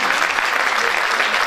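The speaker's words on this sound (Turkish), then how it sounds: "bütün alkışlar onların olsun" Concert audience applause fills the hall, dense and loud, a steady wash of many hands clapping with no gaps through the short stretch.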